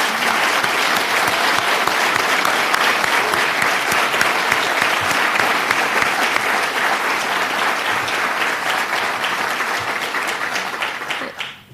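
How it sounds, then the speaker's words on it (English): A crowd at a national crime victims service awards ceremony gives sustained, loud applause for award recipients, a dense steady clapping that holds for about ten seconds before tapering off abruptly. "Let's give our recipients of these awards one more round of applause."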